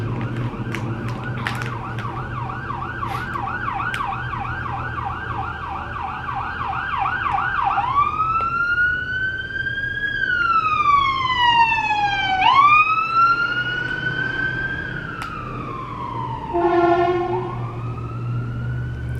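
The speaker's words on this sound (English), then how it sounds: "Uh-oh, ambulance coming" An ambulance siren approaches and passes through city intersections, first a rapid warbling yelp, then slow rising-and-falling wails with a brief horn-like blast near the end, loud and close throughout.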